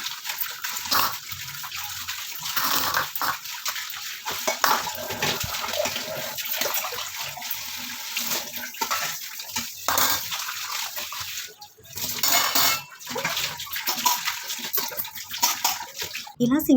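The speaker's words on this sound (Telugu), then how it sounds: "ఇలా సింక్లో గిన్నెలు క్లీన్ చేయడం చాలా సింపుల్గానే ఉంటుంది, కానీ వాటర్ చాలా వేస్ట్ అయిపోద్దండి." A tap runs into a kitchen sink while dishes are washed, a continuous gushing splash that briefly dips and shifts, with occasional clattering of vessels.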